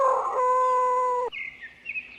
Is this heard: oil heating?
no